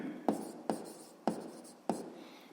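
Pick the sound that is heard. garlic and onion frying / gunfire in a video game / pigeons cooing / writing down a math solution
writing down a math solution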